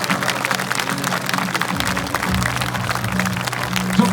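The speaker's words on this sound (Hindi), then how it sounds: "ताली बजाओ, सब ताली बजाओ।" A church congregation clapping during a Hindi-language worship service in Punjab, a dense steady patter of many hands with musical tones underneath, continuous and fairly loud throughout.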